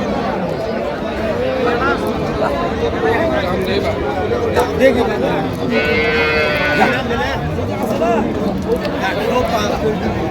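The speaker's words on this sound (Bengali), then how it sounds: "সুন্দর গাভী বাছুর আমরা দেখছিলাম এখানে" Cows and calves moo repeatedly at the Ambari cattle market, low calls rising from a dense crowd of chatter and bargaining voices that continues throughout.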